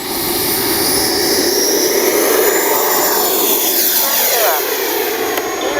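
An FMS Avanti S 90mm RC jet roars loudly and continuously through its takeoff run, a steady turbine whine and rushing blast that sweeps slightly as it moves past, with no voices over it.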